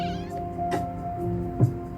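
A house cat meows close by, a drawn-out caterwauling cry followed by a shorter meow, over a steady room hum.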